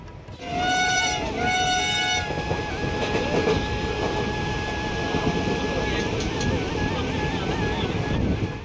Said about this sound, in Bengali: লালগোলা স্টেশন থেকে ট্রেন ছেড়ে দিয়েছে